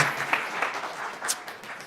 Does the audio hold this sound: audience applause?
yes